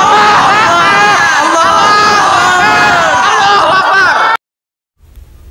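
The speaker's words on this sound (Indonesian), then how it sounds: "Rakyat Surabaya menyambut pidato Kiai Haji Hasyim Asy'ari dan Bung Tomo dengan teriakan lantang" A crowd shouts loudly in response to a speech during a school drama performance about the Battle of Surabaya, a continuous mass of overlapping yelling voices that cuts off abruptly into silence near the end.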